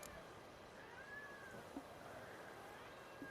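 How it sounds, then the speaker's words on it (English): A house cat meows faintly in the background, one drawn-out rising and falling call under quiet game sound. "Sorry about the random cat noises in the background."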